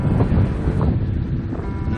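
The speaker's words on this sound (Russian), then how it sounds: "Ветер до сих пор дует, не стихает." Strong gusty wind on the White Sea near Pertominsk buffets the microphone in a low, rumbling roar, with faint sea noise underneath.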